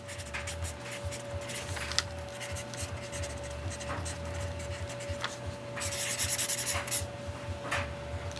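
A stainless steel Sharpie pen writes on paper, producing soft continuous scratchy strokes up close, with a few brief louder scribbles toward the end over a faint steady hum.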